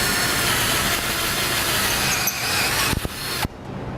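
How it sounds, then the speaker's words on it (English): A step drill bit widening a hole in the steel base plate of a 2013 Jeep Wrangler, a steady loud grinding whine that ends with a few sharp clunks as the drill stops. "I'm going to use a step bit."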